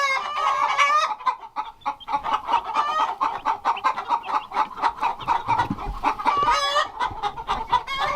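Turkeys clucking and gobbling in a busy, continuous chorus of rapid calls, close by and fairly loud.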